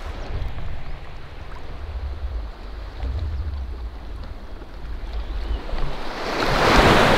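Waves washing onto a beach in Thailand, a steady hiss of surf with low rumbling swells and wind buffeting the microphone, building into a louder crashing rush at the end.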